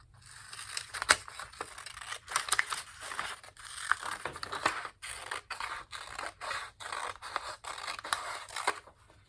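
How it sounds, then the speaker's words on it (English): Scissors cutting through folded, creased paper, a steady run of close crisp snips and rasping slices in a regular rhythm, with no talking. "And now I'm going to cut that."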